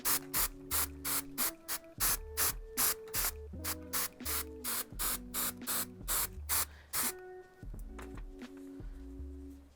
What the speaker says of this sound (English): And then you're going to go ahead and just spray.